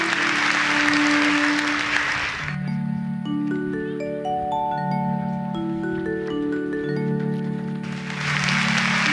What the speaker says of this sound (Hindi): जोरदार तालियों से उनका अभिनंदन करिए